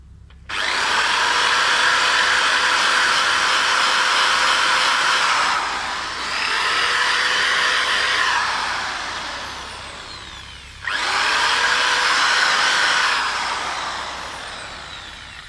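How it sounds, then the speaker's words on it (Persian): A power drill runs in long sustained bursts against a Toyota Cressida engine under rebuild, three whirring runs separated by brief drops, close and loud with the motor pitch settling steady each time. "حالا یه دریل میگیرم توشون"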